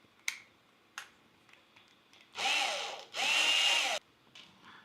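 A power driver runs screws into the fan mounting on a Bambu 3D printer, two sustained whirring bursts of about a second each, close and fairly loud, separated by a short pause and surrounded by scattered faint clicks and handling taps.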